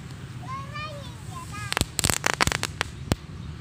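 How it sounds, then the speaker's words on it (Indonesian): A goat firecracker goes off outdoors as a burst of sharp, rapid cracking bangs, loud and close, after a whistling lead-in, with children talking faintly in the background. "Nah, ini adalah mercon kambing."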